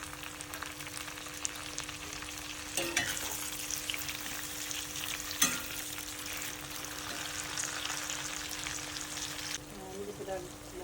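Chili and tomato fry in a pan with a steady, close sizzle and crackle, broken now and then by the clink and scrape of stirring.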